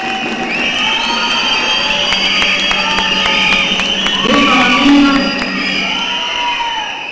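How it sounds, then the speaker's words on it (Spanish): A crowd at the Cholita Gironense 2016 pageant claps and cheers, with whoops and high shouting voices rising over continuous applause, swelling briefly near the end. "Un fuerte aplauso para que va a ser la chorita"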